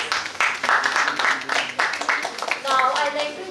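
An audience at an ideathon pitch event claps continuously and moderately loudly throughout. Voices and cheering mix into the clapping.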